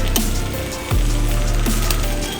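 Garlic hits hot oil in a pan for curry chicken rasta pasta and sizzles loudly and close, with a steady fry and a few scraping knocks from a utensil stirring, and no talking.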